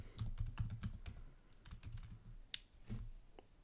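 Fingers type JavaScript code on a computer keyboard, quiet close-up clicks arriving in quick uneven bursts with short pauses and a few harder single taps, with no talking.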